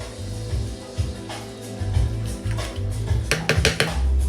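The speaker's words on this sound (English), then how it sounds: "And we're gonna mix it all up like this." Potatoes are stirred into a pot of chickpea stew, with repeated scraping and knocking of a utensil against the pot and a few brisk clinks toward the end, close and without talking.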